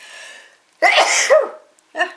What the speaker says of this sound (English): pepper always makes me sneeze